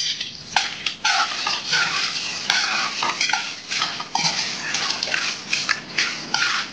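Fried coconut and peanuts being stirred into a puffed-rice chaat, with a dense, continuous scraping and rustling of a spoon through the dry mix, close and steady, with no talk.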